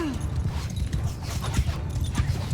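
Horse hooves clip-clop steadily in Mount & Blade II Bannerlord, set against a dense, continuous battle din.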